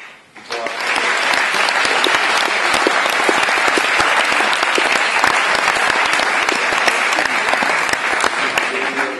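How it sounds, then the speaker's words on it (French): Sustained, dense applause from an audience at an award ceremony for an innovation challenge prize, starting abruptly and continuing loud and steady throughout. "je vous demande d'applaudir également M. Superna"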